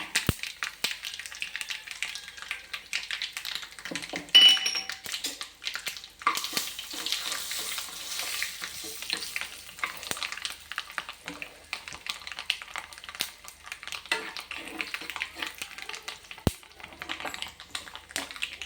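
Asafoetida dropped into hot oil sets off a soft, steady crackling sizzle that keeps going throughout, fairly quiet and close, with small pops and stirring taps and no talk.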